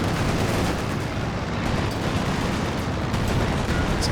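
Heavy anti-tank gun fire and explosions from veteran crews hammering a Panther tank in the Company of Heroes 2 strategy game, forming a dense, continuous wall of rumbling battle noise throughout.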